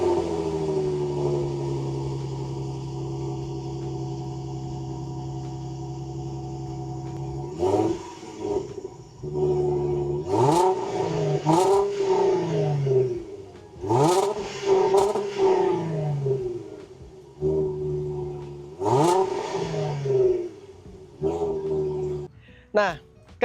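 A deep supercharged 3.0 Range Rover Sport engine with a four-pipe exhaust idles steadily while parked, then revs in several sharp bursts, climbing and falling back between them, close and loud, with a voice briefly talking at points.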